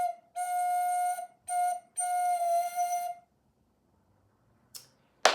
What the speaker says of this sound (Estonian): Vilepard teeb sellist häält.